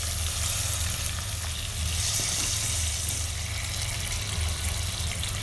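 Mutton pieces frying in an onion and tomato masala, a dense continuous sizzle and crackle at steady loudness, close to the pan, with a low background hum underneath.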